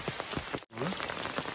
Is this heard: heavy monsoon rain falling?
yes